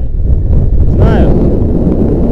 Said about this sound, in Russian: ветер нормальный, на самом деле